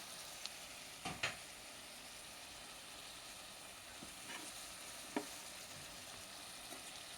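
Spices sizzling in oil for a Ramadan-night dal khichdi, a steady soft frying hiss with a few sharp crackles and spoon clinks, fairly quiet and with no talking.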